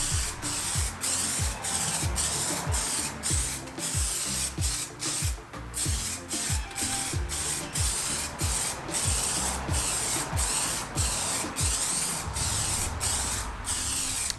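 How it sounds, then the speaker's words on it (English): Aerosol can spraying UV clear coat onto a car headlight, heard as a steady broadband hiss punctuated by a regular series of short rhythmic bursts, close and fairly loud with no talking. "spray it on the headlight about 15 to 25 centimeters from the headlight, and make sure you cover the entire light with a nice even coat"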